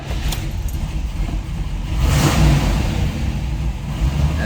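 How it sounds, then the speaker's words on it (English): A 1970 Chevrolet Camaro Z/28 V8 fires up from cold and settles into a loud, rumbling idle with a swell of revs partway through, close and steady. "I'm going to give us a fire up here."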